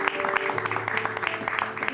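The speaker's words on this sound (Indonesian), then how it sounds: "Kasih tepuk tangan untuk Delon yang sudah hadir di sini." A crowd claps steadily, dense applause filling the space with rapid overlapping hand claps at a constant level.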